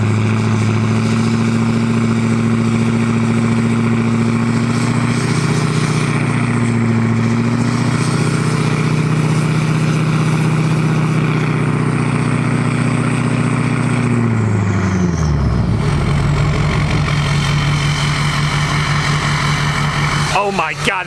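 A Duramax diesel pickup truck engine runs with a deep, loud steady rumble, then the pitch drops as it winds down near the end, followed by a brief clatter.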